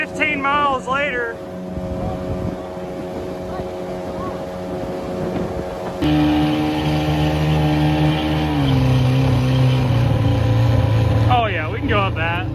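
A cheap 12-foot jet boat engine drones on a river below a dam, steady and close with wind buffeting the microphone, the pitch rising as the throttle opens, while people talk briefly at the start and end.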